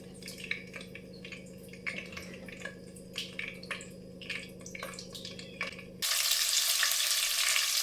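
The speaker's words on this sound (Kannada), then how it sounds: "ಇವಾಗ ಸಾಸಿವೆ ಮೆಣಸಿನ್ಕಾಯನ್ನು ಹಾಕಿದ್ದೀನಿ. ಸ್ವಲ್ಪ ಡೀಪಾಗೆ ಫ್ರೈ ಆಗಲಿ." Mustard seeds and green chillies crackle and sizzle in hot oil in a pan, with scattered pops over a steady hiss, while a broad louder hiss takes over near the end.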